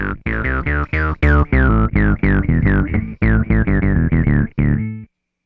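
Guitar through a distortion on a modular pedalboard, picking a rapid string of about fifteen bright, chirpy notes with a falling tone on each attack, loud and close, then stopping abruptly with no talking.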